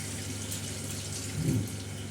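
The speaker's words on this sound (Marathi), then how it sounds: "आता आपण परत दुसरं पाणी टाकत आहोत मस्तपैकी असे स्वच्छ" Water is poured over rice being rinsed in a bowl while making Hyderabadi biryani: a soft, steady wash of pouring that swells briefly near the end, over a low electrical hum.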